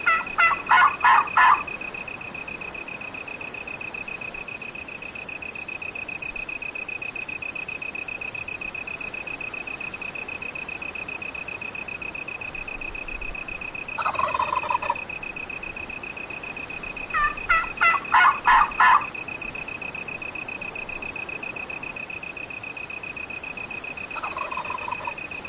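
A wild turkey gobbles in several bursts during a turkey hunt, each rattling call carrying over a steady insect-like buzz in the background, and the gobbles return at intervals.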